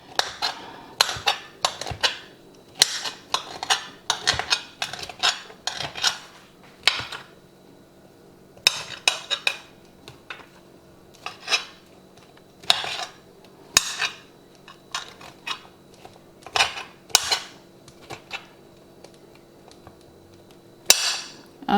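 A knife chops okra on a cutting board in a home kitchen: quick, sharp, close taps in uneven bursts and pauses, with no voices.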